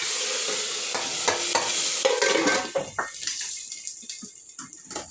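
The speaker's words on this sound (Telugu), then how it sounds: "ఇప్పుడైతే పప్పులేక తాలింపు చేస్తున్నా" Spices for dal tempering sizzle in a pan with a few stirring clinks, loud at first and then fading into quieter, scattered crackles.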